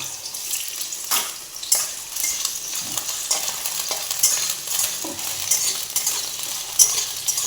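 Potatoes frying in hot oil, a loud close hissing sizzle with frequent scraping and stirring knocks throughout, no talking.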